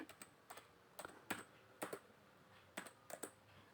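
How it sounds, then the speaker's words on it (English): Keys tapped on a computer keyboard while entering the ipconfig command in a terminal window: a dozen or so crisp, close clicks in uneven small clusters, quiet and with no talking. "You just type the IP config."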